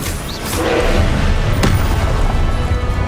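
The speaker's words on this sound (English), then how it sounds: "Expelliarmus!" A spell cast in the Hogwarts Legacy video game lands as a loud, sustained magical burst with a whooshing, booming texture, a sharp crack near the middle, and no talk over it.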